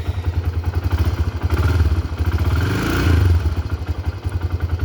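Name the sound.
Honda 300ex ATV engine running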